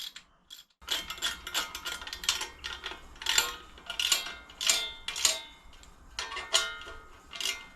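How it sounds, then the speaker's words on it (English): Ratchet turning a tap to cut threads in holes in a motorcycle battery box for a Suzuki GSXR, a series of crisp close clicking bursts repeating in short strokes with brief gaps. "Tapping it out with a ratchet, so I'm a bit restricted with space there."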